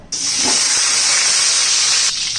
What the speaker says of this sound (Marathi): आता ह्याच तेलामध्ये ना आपण ही अंडी घालून घेऊया